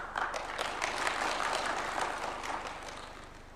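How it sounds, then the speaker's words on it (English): Applause at an official Kenyan justice sector ceremony: a fairly soft, steady patter of many hands clapping, slightly distant, tapering off toward the end with no talk over it. "Another round of applause for Chief Justice."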